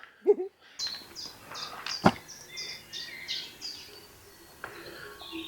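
Video game bird chirping, a series of short bright tweets repeating in a loose rhythm, with a sharp click and a brief voice at the start.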